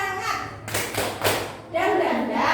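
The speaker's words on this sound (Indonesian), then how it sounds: "ayo tepuk semangat terlebih dahulu" A school class performs a rhythmic group clap, with bursts of hand claps and thuds alternating with children's chanting voices, close and lively.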